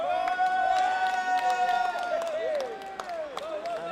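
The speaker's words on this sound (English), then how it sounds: "And some cheering right near the commentator box" Supporters cheering and clapping near the commentator box at a dodgeball Western European Championships match, distant crowd noise beneath a loud, sustained whistling tone that bends in pitch, with scattered claps.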